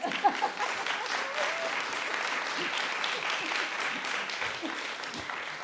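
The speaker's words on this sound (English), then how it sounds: "Yes, exactly, big applause." Applause from a symposium audience on wetland landscapes, a steady wash of many hands clapping at moderate level throughout, with a faint voice near the start.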